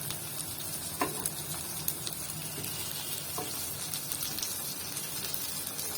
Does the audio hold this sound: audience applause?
no